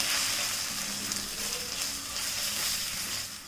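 Masala spice paste stirred in an iron pan for chicken biryani gives off a steady, close sizzle, with a faint scrape of stirring running beneath it and no voices.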